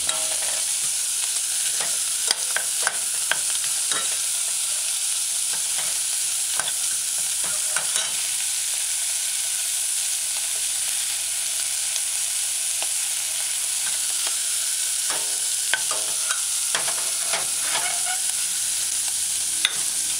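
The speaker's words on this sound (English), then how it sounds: "Shuffle the onions to the pot's bottom. Allow it to saute." Onions sauté in cooking oil in a pot for a saltfish and eggplant stew, giving a steady, close sizzle and frying crackle with scattered scraping stirs throughout and no talking.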